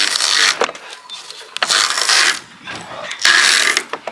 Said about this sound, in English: We're going to put this in here, and we're going to winch it.